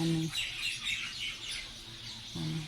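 Bird calls and chirps flutter in the high range throughout, fairly continuous and mid-distance, over a low steady background hum.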